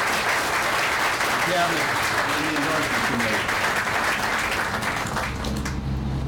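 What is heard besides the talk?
audience applause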